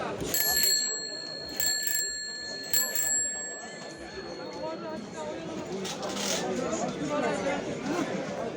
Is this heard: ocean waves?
no